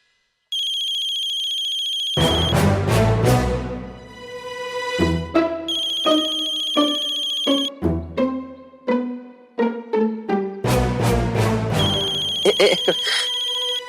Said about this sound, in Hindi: प्रभु राम का फोन है।